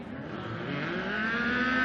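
UTV race cars launch at the start of a 2018 GNCC off-road race at the John Penton round, their engines revving and climbing in pitch together as they pull away at a moderate distance.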